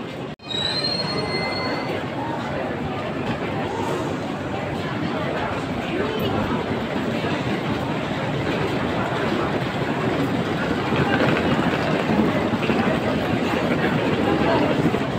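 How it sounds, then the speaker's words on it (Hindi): A passenger train at a station platform on a journey from Moscow to Smolensk, heard as a loud, continuous rumble with metallic wheel squeal and rail noise filling the whole stretch. "रुकने वाला है ये ट्रेन यहाँ पे, शायद 5-10 मिनट रुकेगा उसके बाद निकल जाएगा"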